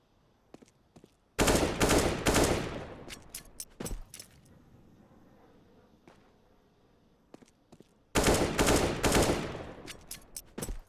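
Two loud sustained bursts of automatic gunfire from a first-person shooter video game, each lasting a couple of seconds, separated by quieter scattered single shots and faint background noise.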